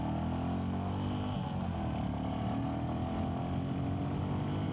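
A Royal Enfield Classic 350 motorcycle engine thumps at a steady, low, throbbing idle, with a slight rise in revs partway through, loud and close with no voices.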